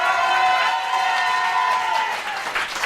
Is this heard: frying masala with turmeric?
no